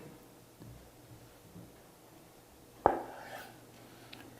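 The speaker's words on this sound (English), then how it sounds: "This is a pound block of tofu, and I'm going to cut it in about thirds this way," A knife cuts through a one-pound block of tofu, a single sharp chop on a cutting board in a quiet kitchen, followed by a faint, softer contact sound.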